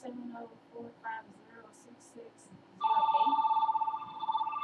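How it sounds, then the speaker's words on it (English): A phone rings, its loud electronic ringtone pulsing in rapid repeated bursts after someone speaks briefly over quiet room tone. "I have no idea who's calling my phone"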